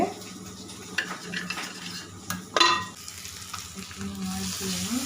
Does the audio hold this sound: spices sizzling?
yes